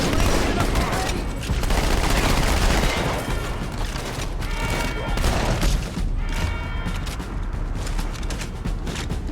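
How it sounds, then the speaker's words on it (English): Rapid three-round bursts from the battle rifle in Halo 2, firing repeatedly and loud in close succession amid dense overlapping gunfire and explosions of a chaotic firefight. "It is a 3-round burst blaster with a scope on it"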